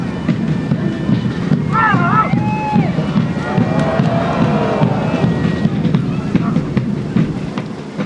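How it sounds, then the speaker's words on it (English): Strong wind buffeting the microphone at the 2006 Aviemore Highland games, a steady loud roar throughout, with voices talking and shouting underneath. "The wind's kicking up."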